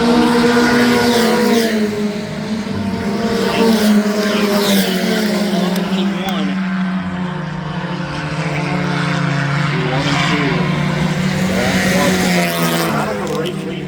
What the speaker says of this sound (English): Got a good look there of Trent Reed down the back straightaway into 3 and 4